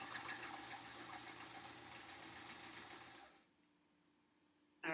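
A sewing machine stitches quilt blocks with a steady, fast mechanical whirr and hum for about three seconds, then stops, leaving near silence before a brief louder clatter at the end.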